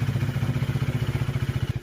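A motorcycle engine running nearby on a village road, a steady rapid low putter with regular pulsing beats, fairly loud and close.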